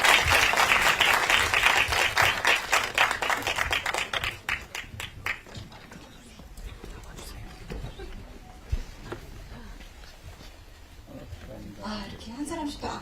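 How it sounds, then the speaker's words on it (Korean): A theatre audience at the Busan International Film Festival claps loudly at first, then the applause thins out under scattered voices and crowd murmur. "여러분들 큰 박수 부탁드립니다"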